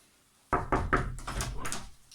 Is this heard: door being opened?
yes